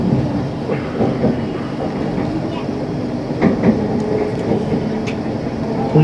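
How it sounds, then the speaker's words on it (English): On board an LNER Azuma bound for London King's Cross, the carriage hums with a steady rumble, and soft rhythmic wheel clicks and faint rattles run underneath. "welcome on board this LNER Azuma to London King's Cross"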